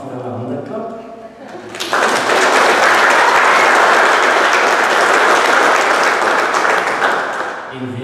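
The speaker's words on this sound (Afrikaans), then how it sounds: "Mag maar vir hulle hande klap." A wedding congregation bursts into sustained, dense clapping to welcome the newlyweds Wian and Bianca, loud and close, rising abruptly after brief talk and tapering near the end.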